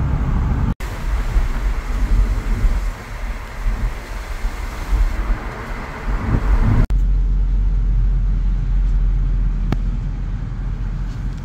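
Steady rumble of a car driving along a road, heard from inside the vehicle, with a continuous low engine and road drone, wind noise, a couple of sharp clicks and no talking.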